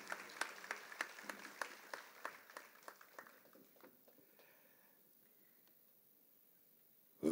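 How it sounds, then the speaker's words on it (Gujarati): Audience applause at a Ganesh festival diamond jubilee celebration after a young musician's performance, a quiet, distant patter of scattered claps that thins out and fades to near silence. "ફરી એકવાર તાળીઓથી આપણે એને વધાવીએ"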